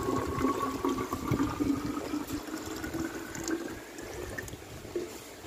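ORS salt water solution is poured into a water can, a continuous close gurgling splash of liquid filling a container that eases slightly toward the end, with no talking.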